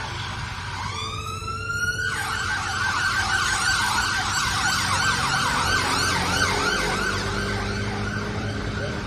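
An ambulance siren passes nearby in Chadwell Heath: a rapid rising yelp gives way to loud, repeated wailing sweeps over steady traffic rumble, holding strong throughout.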